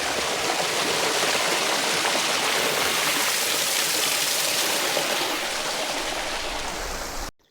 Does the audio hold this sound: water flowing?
yes